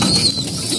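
Pigeons in a breeding loft give a brief, low cooing close by, a soft throaty murmur filling the moment.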